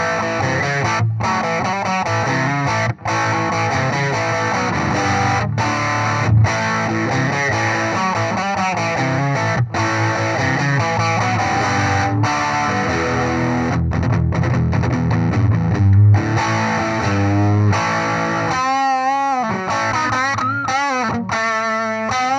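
Distorted electric guitar on a Harley Benton fitted with a very hot P-90 pickup, heavy gain and thick, loud chords and riffs playing continuously with brief pauses, and no voices.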